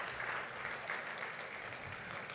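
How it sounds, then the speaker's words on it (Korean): Congregation applauding in a church during a Sunday afternoon praise service, a steady, dense wash of clapping with no clear breaks, fairly distant and even in level. "박수 한번 쳐주시기 바랍니다"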